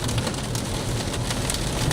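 Hail from a supercell storm in Oklahoma pelts a car, a dense, loud, continuous patter of impacts on the body and roof with occasional sharper hits, no voices.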